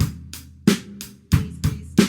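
Close, loud drum kit plays the second phrase of a song's verse, with bass drum and snare hits under crash cymbals in a steady rock pattern and no talking.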